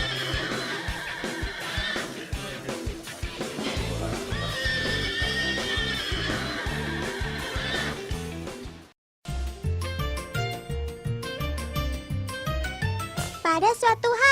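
Andalusian horse weighing around 300 kg rearing and neighing, loud whinnies over music, with a brief silent gap partway through and hoofbeats later.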